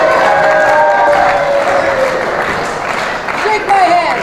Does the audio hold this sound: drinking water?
no